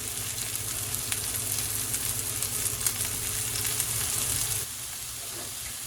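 Chicken meatballs fry in a pan on a stovetop with a loud, continuous hissing sizzle that drops to a lower level for the final second or so.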